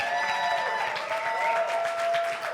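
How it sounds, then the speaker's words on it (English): A crowd at an evening event gives a round of applause, dense, sustained clapping heard throughout. "another round of applause, I love it"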